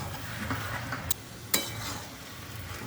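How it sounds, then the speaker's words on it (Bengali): Bowl-rinsing water goes into poppy seed paste frying in a pan, giving a steady close sizzle and stirring, with two sharp utensil clicks against the pan and no speech. "এবার এতে আমি বাটি ধোয়া জলটা দিয়ে দিলাম।"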